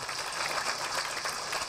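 A lecture-hall audience applauds after a talk with dense, even clapping that holds steady for nearly two seconds, without any voices.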